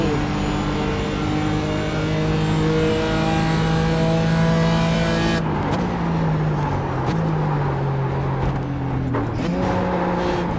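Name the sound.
BMW race car engine accelerating in the iRacing video game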